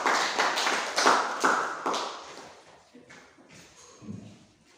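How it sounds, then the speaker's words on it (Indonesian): Brief applause from a class of students greeting a classmate after his introduction, a few seconds of close, uneven claps that thin out and fade into quieter shuffling. "Oke, kasih tepuk tangan buat temannya."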